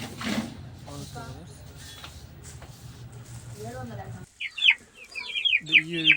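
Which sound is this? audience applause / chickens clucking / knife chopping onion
chickens clucking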